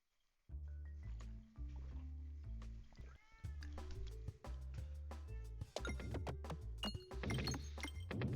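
A house cat meows repeatedly and loudly near the microphone over steady music, with several drawn-out, rising and falling cries through most of the stretch.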